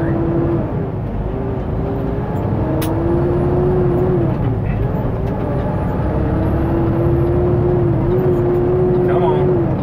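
Steady, loud drone of a truck driving on an Ohio road heard from the cab, a constant engine hum with faint whines and clunks, no talk.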